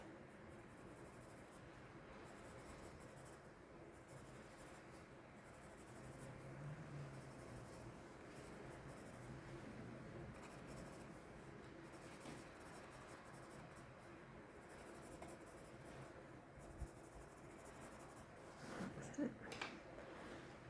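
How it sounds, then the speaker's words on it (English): A black pencil shading on paper under drawn houses in a Christmas village scene, a faint, steady scratchy rasp that runs on and off, very quiet and close. "with my black pencil, I'm just going to do a little bit of shading under each"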